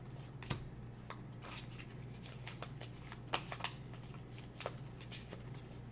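Pokemon cards used for a tarot reading are shuffled by hand, giving soft, quiet riffling and scattered light snaps and flicks over a low steady hum.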